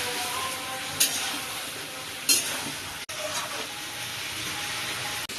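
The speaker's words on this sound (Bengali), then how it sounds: "গোলমরিচের গুঁড়ো দেবো মাংসের মধ্যে দিয়ে আর একটু কষাবো।" Chicken feet and giblets sizzle steadily in hot oil in a pan, with a few brief scrapes of stirring over the constant frying hiss and no talk.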